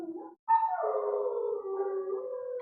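Puppies howling indoors: a short yelp, then one long, wavering, high howl that slides down and holds steady, loud and close, with no talk over it.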